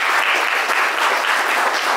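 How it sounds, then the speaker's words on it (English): Steady applause from a roomful of people, dense and even clapping at constant loudness with no voices over it. "give yourselves a round of applause"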